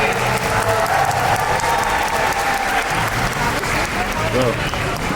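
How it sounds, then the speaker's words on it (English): Audience applause at a dolphin presentation show at the Georgia Aquarium in Atlanta, a steady, dense wash of clapping from a large crowd lasting throughout, with voices and music mixed underneath. "How many rounds of applause for Kay and Salvador?"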